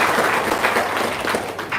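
A brief burst of audience clapping at an indoor gathering, a loud, dense patter of many hands lasting under two seconds.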